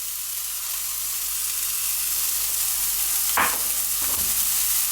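A seasoned beef burger patty sizzles steadily in a hot pan, a loud continuous frying hiss with a couple of brief scraping touches near the end and no talking.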